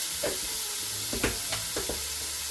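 Minced garlic stirred into a sizzling pot in a Ninja Foodi XL while a roast is being made, giving a soft, steady hiss and a few quick, faint scraping strokes close by.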